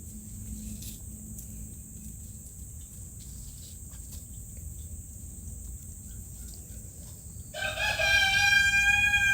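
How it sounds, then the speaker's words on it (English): A rooster crows loudly outdoors near the end, rising over a steady bed of insect chirping and faint background noise. "The roosters are crowing to the music."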